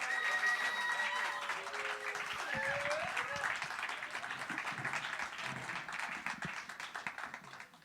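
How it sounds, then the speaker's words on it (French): Crowd applause at the Pan Piper in Paris for a poet taking the stage at a national slam final, sustained clapping with a few whoops and voices, thinning into scattered claps toward the end. "On accueille Mouloudji sur scène. Sous vos applaudissements"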